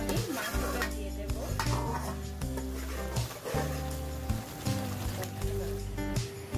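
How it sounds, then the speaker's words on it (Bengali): Spice masala with salt is stirred in a cooking pot for a camel meat curry, giving scraping metallic clinks under a steady musical bed. "মশলাটাকে ভালো করে নেড়ে দিচ্ছি।"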